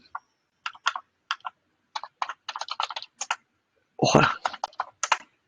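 Password being typed on a computer keyboard, a close series of crisp, irregular key clicks in quick bursts, with a brief spoken word partway through.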